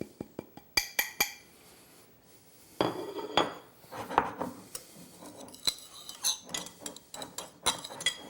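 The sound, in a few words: mixing dry seasonings together on a plate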